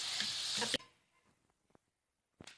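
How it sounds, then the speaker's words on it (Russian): A loud, broadband sizzle of potato chips frying in hot oil that cuts off abruptly, followed by near silence with a few faint clicks and a brief rustle at the end. "Мы уже жарим третью партию."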